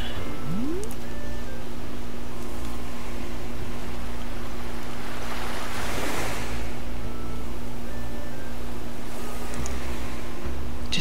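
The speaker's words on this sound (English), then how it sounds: "ocean ASMR there with the waves lapping up on the beach and hitting against the rock there" Ocean waves wash steadily onto a beach and break against rocks in a video game, a continuous close roar of surf that swells in the middle and again near the end.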